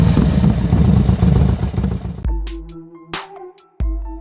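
A Hero Hunk 150 (2021, ABS) motorcycle engine runs with a loud, close, rumbling idle for about two seconds before cutting off abruptly, followed by clean tonal chimes.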